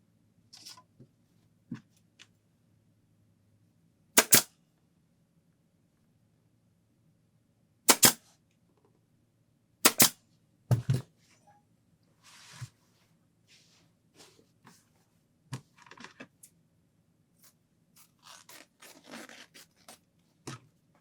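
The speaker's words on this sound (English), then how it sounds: "fold the raw edge under of the desk cover and staple it in place" A staple gun fires sharp, close snaps into fabric while a dining room chair seat is reupholstered, with about four loud shots spaced a few seconds apart. Quieter rustling and scraping of the fabric fills the gaps.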